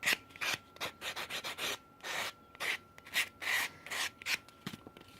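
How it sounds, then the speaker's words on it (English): A small metal Vintaj dragonfly pendant tip gets sanded by hand, giving a quick run of short, close scraping strokes in an uneven rhythm. "And just sand that."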